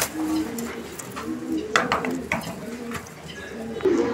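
Fantail pigeons coo softly in short low bursts at a pigeon farm, with light clatter and people talking nearby.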